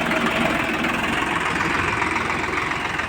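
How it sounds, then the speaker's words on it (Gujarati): A tractor engine drones steadily and loudly up close as it pulls a cultivator through a field, a constant low rumble with rough, knocking texture and no voices. "પોતે ટ્રેક્ટર ચલાવજો ખેડતા"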